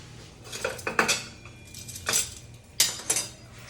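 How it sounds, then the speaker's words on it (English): A whisk beats a Parmesan cheese sauce for a capers and lemon pasta, making irregular bursts of clinking and scraping against the bowl, with short pauses between strokes and no voices. "I'm gonna whisk this, actually"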